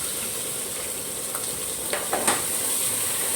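Onions and garlic fry in oil in a kadai, a steady, loud, hissing sizzle with a couple of brief stirring scrapes toward the end.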